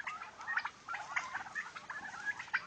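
Farm-raised turkeys in Sirajganj make a quiet, continuous run of short gobbling and clucking calls, faint and somewhat distant, with no talking.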